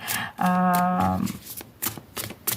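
Quick bursts of tarot cards being shuffled, with a short voiced tone in between and a few more shuffles after.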